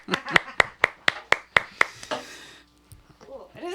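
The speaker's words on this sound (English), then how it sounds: "It is so cool to like hear applause and not have to like woo myself." A short burst of sparse clapping from a small audience at a live dark Americana, blues rock and soul music show, about eight distinct claps in a loose rhythm before fading into quiet room noise.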